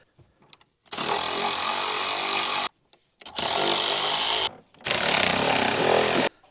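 A power tool loosens the lower control arm bolts on a 2012 BMW X3 (F25) during a spring replacement, running in three loud, sustained bursts separated by short pauses, close up with no speech.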